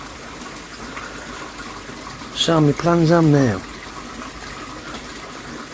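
Water from a pump-fed garden pond filter gushes out of a pipe as a steady, constant rush throughout. Someone speaks briefly over the flow partway through.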